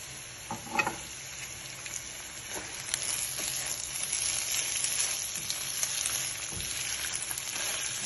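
Boneless salted fish fried rice sizzles and crackles steadily in a hot pan, with a few clinks of stirring near the start and the frying hiss holding even throughout.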